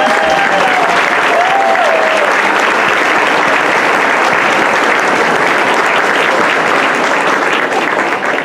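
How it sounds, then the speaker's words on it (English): An audience at a school board of education business meeting bursts into sustained, dense applause lasting several seconds, close and loud without a break. "You may now applaud."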